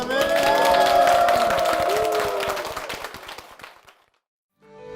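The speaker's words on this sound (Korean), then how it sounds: "주님께 영광의 박수를 드리겠습니다" A church congregation claps together in a loud, dense burst of applause that holds steady and then thins and fades out, with a swell of music or voices underneath.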